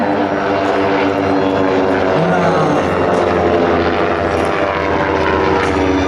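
A Cessna 336 Skymaster push-pull twin-propeller plane flies at an air show, its engines giving a loud, continuous droning buzz throughout, with no clear talk.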